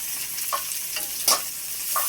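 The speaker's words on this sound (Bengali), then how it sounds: "বন্ধুরা লাল লাল করে পেঁয়াজটা আমি ভেজে নিয়েছি," Chopped onions sizzling in a pan with cumin, stirred with a few distinct scraping strokes over a soft continuous fry, close by and with no voices.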